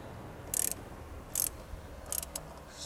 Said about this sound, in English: then you get your ratchet and just tighten a little bit.